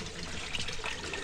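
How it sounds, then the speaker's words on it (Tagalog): A small hidden natural spring in Tanay, Rizal trickles steadily, its close, continuous water sound carrying alone with no talk. "Ay, ito pala yung sinasabi nilang bukal."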